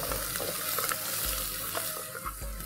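Chopped ginger and garlic sizzle in a hot pan with scraping stirs, a steady frying hiss close up and no voices.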